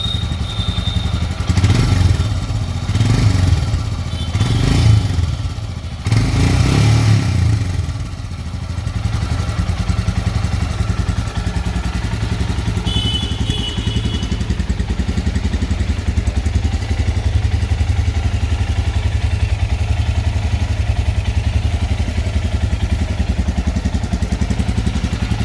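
Royal Enfield Himalayan 411cc single-cylinder motorcycle ridden through city traffic, a loud, steady close-up engine drone with a few rhythmic revving pulses early on, then a continuous even cruise.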